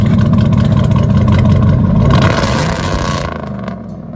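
A loud, deep Chevy/GMC 6.0L V8 truck with straight-pipe exhaust idles close by with a heavy, rumbling exhaust burble that eases off slightly toward the end.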